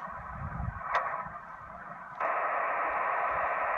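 Ham radio receiver audio with digital noise canceling on, steady filtered hiss from the receiver, a brief click, then a louder, denser band of noise taking over partway through, with no clear talk.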